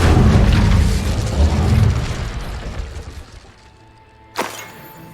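The Incendio fire spell cast in Hogwarts Legacy: a loud, roaring burst of flame that slowly fades away, followed by a brief sharp crack near the end.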